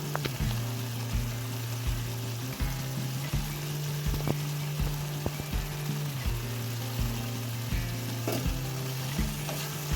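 Dried anchovies frying in a thick tomato masala, a steady loud sizzle with repeated scraping stir strokes and a low background hum, no voices.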